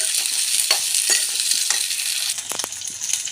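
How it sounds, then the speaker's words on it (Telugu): Cut brinjal pieces stirred in a hot oiled pan, a steady sizzle with scraping strokes of the spoon at irregular intervals, close and clear with no talk. "ఇప్పుడు కట్ చేసి పెట్టుకున్న వంకాయలు వేసుకొని నేను అంతా తగిలేటట్లు కలుపుకోవాలి"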